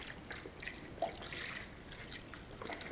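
Broth poured into a pot of brisket chili, a soft continuous liquid trickle with small drips and splashes, close and fairly quiet, with no talking.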